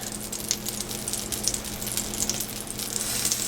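Burger patties for hamburgers à la française sizzle steadily in a hot pan, with a continuous bright hiss and scattered small pops and crackles throughout.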